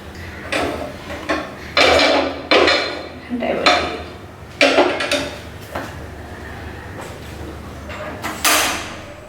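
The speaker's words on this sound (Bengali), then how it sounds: "তো আমি চাটা বসিয়ে দিচ্ছি।" A tea pot is set down on a stove, with a series of sharp metallic clanks and knocks, several clustered bangs spaced irregularly, close by in a quiet kitchen.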